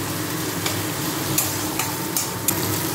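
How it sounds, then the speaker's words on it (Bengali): New potatoes frying for jhuri aloo bhaja, a steady close sizzle in hot oil with occasional sharp clinks of a utensil stirring the pan. "নতুন আলু দিয়ে ঝুড়ি আলু ভাজা বানাবো"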